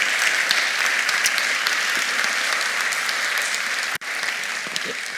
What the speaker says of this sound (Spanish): Así que muchas gracias y este aplauso.